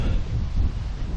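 Gusty side wind buffeting a cyclist on a road in Belgium, a loud, continuous low rumble of wind noise across the microphone with surging gusts throughout.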